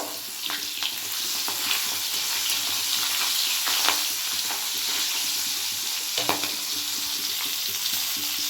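Tengra fish (small catfish) fry in hot oil that sizzles continuously and loudly, broken by sharp pops and scraping stir sounds at irregular moments.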